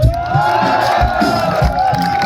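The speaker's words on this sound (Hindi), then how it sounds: "जोरदार ताली" A crowd cheers and whoops loudly at a college fest concert honoring Kabir, a steady roar of voices with bursts of shouting and possible clapping underneath.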